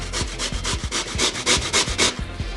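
Raw potato rubbed back and forth on a fine cheese-style grater for Bahamian potato bread, a steady run of about ten rasping strokes, close and fairly loud with no talk.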